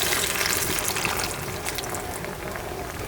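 Masala water is poured into a cooking pot while making hyacinth bean curry, a close, continuous splashing and trickling pour that eases slightly toward the end.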